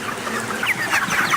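Chickens in a farm rearing shed cluck and chatter, several birds calling over one another in a busy, continuous murmur of short squawks nearby.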